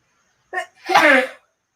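A single close, loud sneeze: a quick inhaled catch followed by a forceful voiced burst, then silence.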